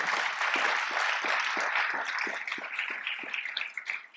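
An audience at a county budget address applauds Miss Carol Jones with a sustained wash of clapping that carries on steadily and fades slightly toward the end, heard from across a large room with no voices over it.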